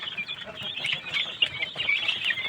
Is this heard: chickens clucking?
yes